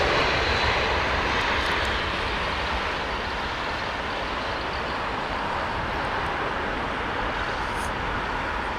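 An Air France Airbus A350 airliner passing overhead on its arrival approach, a loud, steady jet engine roar that fills the whole stretch without a break.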